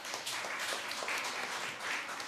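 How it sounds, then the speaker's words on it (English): Applause from a school audience at the Ministry of Education National Reading Competition, a quiet but steady wash of many hands clapping for a participant, slightly distant and continuous. "Let's give a big round of applause for her."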